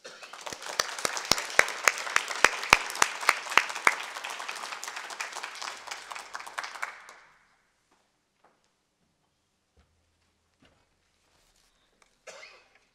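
A lecture audience applauds warmly to welcome speaker Dr. Bonnie Brinton: dense, loud clapping with sharp individual claps for about seven seconds, then it stops abruptly, leaving near silence with a faint rustle near the end.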